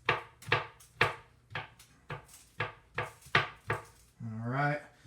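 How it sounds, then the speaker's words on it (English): A knife chops food on a cutting board for garbage plates, about a dozen sharp, close chops in a steady rhythm, followed by a brief voice. "Chop that up."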